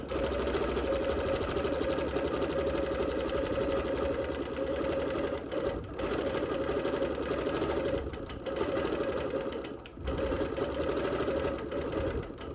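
A sewing machine quilting through wool runs in a long steady hum of rapid stitching, with a few brief pauses and no talk.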